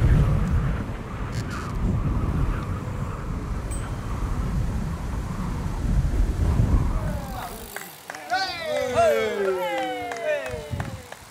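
Cycling outdoors in strong wind, a heavy low rumble of wind buffeting the microphone runs steadily for most of the time before dropping away, and a person then speaks clearly.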